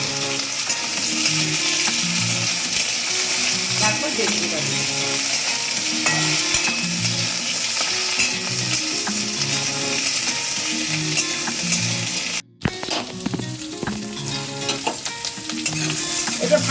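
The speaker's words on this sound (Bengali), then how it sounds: "কুমড়োটা দিয়ে দিলাম সর্ষে আর এই শুকনো লঙ্কাটা ভালো করে পুড়িয়ে নেবে" Pumpkin frying in hot oil with mustard seeds and dried chilli, a loud continuous sizzle under repeated rhythmic spatula scrapes against the pan, close up, with a brief break near the end.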